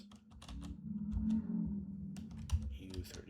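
Computer keyboard keys tapped in quick irregular bursts while Rust code is entered, close and moderately loud over a low steady hum with faint murmured speech.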